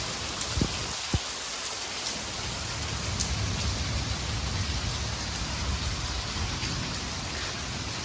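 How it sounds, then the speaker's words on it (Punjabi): Heavy rain pours steadily outdoors in Italy, a dense, continuous hiss of drops close by with a couple of brief knocks near the start and no voices. "ਮੀਂਹ ਖਾਸਾ ਪੈਂਦਾ"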